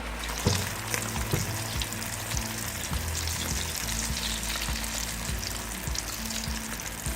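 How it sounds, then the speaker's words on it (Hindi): Black chana kababs fry in hot oil with a continuous, dense sizzle and bubbling, punctuated by a few soft knocks and clicks of the pan or utensil. "इन सबको एक एक करके सारे ऐसे कबाब बना लें, सारे इसको फ्राई करते जाएं।"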